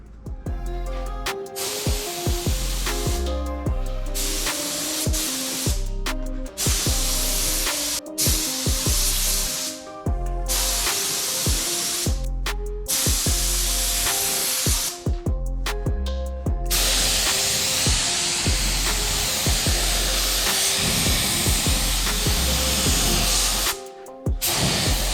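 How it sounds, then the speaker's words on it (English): A spray gun lays 2K eggshell black paint, mixed 4:1, onto a V8 LC Torana street car, with loud, close hissing bursts broken by short pauses between passes. "I just mixed up some eggshell black in 2K, which is a 4:1, and we're ready to lay the paint on"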